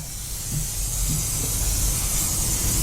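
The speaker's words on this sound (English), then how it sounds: "Oh, and then the foam cleaner." Foam cleaner sprays onto a Hy-Track circuit tracer being cleaned and recommissioned, a continuous close, airy hiss that holds steady throughout and rises slightly after the first half second.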